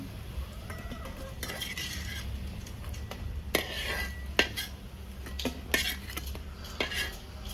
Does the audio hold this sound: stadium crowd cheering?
no